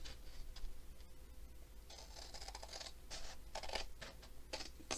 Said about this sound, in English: I'm just going to take my scissor, okay, and cut this line here.